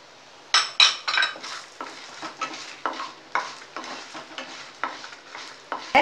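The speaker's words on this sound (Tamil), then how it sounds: "நம்ம வறுக்கும் போதே எண்ணெயில் நல்லா பருப்பை வறுத்துருங்க." A spoon stirs and scrapes urad dal roasting in hot oil in a pan, giving a series of irregular scraping and clinking strokes over a soft, steady sizzle, close and distinct with no talk.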